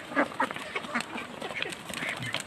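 Ducks quacking in short repeated bursts, several calls overlapping at close range against a busy outdoor background.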